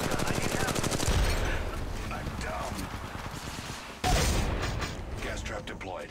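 Rapid automatic gunfire in a video game, loud and close, with bursts of fast repeated shots and a sharp restart partway through, layered over mechanical clatter.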